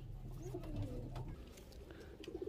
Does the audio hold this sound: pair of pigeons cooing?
yes